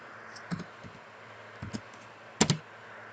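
Keys tapped on a Sinumerik 808D CNC milling machine control panel, a few sparse clicks in small clusters, fairly close and otherwise quiet.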